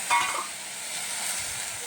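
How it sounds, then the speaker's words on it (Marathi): Green chillies roast in a hot kadai with a constant close sizzle and a brief scrape of stirring at the start. "तर आपण आता कढई गरम मिरच्या भाजून घेऊया"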